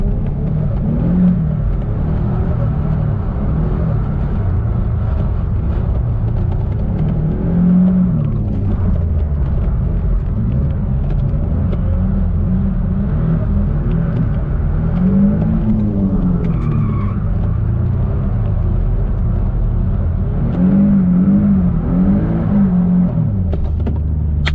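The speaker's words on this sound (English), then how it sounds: "Okay, second gear, clutch kick." A turbocharged Nissan 350Z drifts in second gear with a clutch kick, its engine droning loud and continuous while tyres squeal in long, rising and falling wails throughout.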